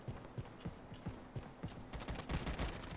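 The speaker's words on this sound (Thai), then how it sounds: "เนี่ยยิงอยู่นี่" Gunfire in the Roblox game Frontlines: a string of single shots fired one at a time at a steady pace, then a denser burst of shots toward the end, moderately loud.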